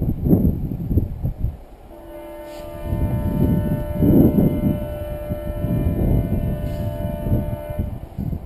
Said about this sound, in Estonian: Teine sireen.